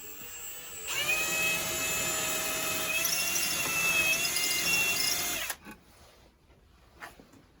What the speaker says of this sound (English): So I'm going to drill this before I go any further with this.